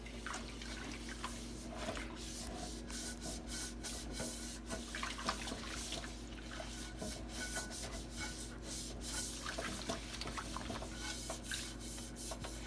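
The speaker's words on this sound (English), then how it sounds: "Then I'm going to use my scrub brush, or my sponge when I clean it." A scrub brush scours a wet dish in a stream of close, uneven scratchy strokes, with faint watery sounds beneath and no talking.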